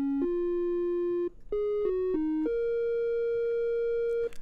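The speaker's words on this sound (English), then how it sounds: "I wanted to start with a triangle wave." A series of pure, steady synthesizer triangle-wave tones with soft harmonics, held notes stepping between pitches, clean and electronic with a brief gap midway.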